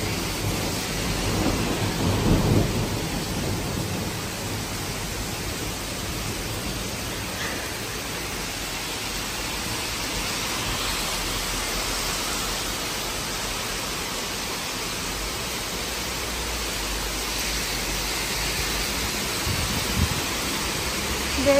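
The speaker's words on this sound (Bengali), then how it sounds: "ও মাই গড, হঠাৎ নামলো বৃষ্টি" Sudden heavy rain pours down steadily in a thunderstorm, a dense, loud wash of rainfall with low rumbles of thunder rolling underneath, no voices.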